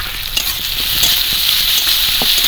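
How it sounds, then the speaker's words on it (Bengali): Chopped onions and green chillies sizzle steadily in hot oil, a close, dense crackle with light stirring taps and no talking. "ভালো করে একদম ভাজা হয়ে যাচ্ছে"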